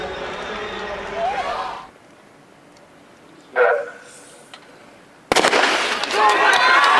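At an NCAA track championship race, a starting gun cracks sharply, then a loud stadium crowd roars over ongoing commentary.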